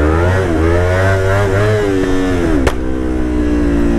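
A motorcycle engine revs and accelerates up close, pitch climbing through gear changes, with a sharp pop near the end before settling into a steady drone.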